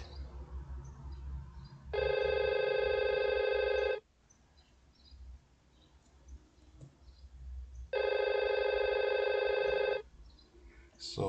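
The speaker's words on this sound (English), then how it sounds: "So the IP phone 1 now is ringing." A simulated IP phone in Cisco Packet Tracer rings in two loud electronic bursts, each about two seconds long, separated by a few seconds of quiet room noise.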